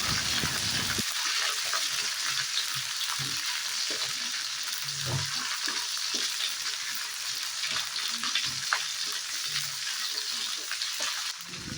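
Garlic, green chilies, dried red chilies, bay leaves, cardamom and cinnamon fry in hot oil for a raw mango pickle, a steady close hiss with soft scraping stirs throughout.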